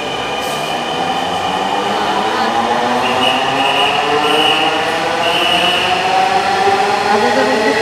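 A Dhaka metro rail train leaves the station bound for Agargaon, a loud continuous rolling rumble with rising motor whine that holds steady throughout.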